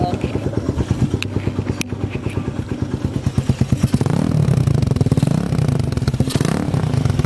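A Raider 150 carburetor motorcycle fitted with a GP2 exhaust pipe idles with a lumpy, popping rhythm, then is revved into a sustained, louder roar, close by, with a voice briefly over it.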